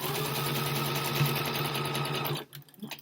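Sewing machine stitching steadily, a fast even mechanical whirr held close for a couple of seconds before stopping abruptly, followed by faint handling noise.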